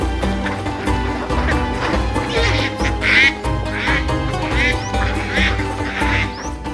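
Ducks on a duck farm quack repeatedly, with several overlapping nasal calls rising over a constant murmur of flock noise, close and fairly loud.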